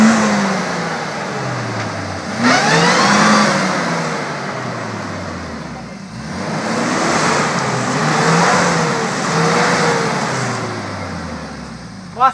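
A Suzuki off-road vehicle revving hard as it climbs through mud onto a clay plateau, its engine rising and falling in repeated surges, loud and close, with people talking now and then.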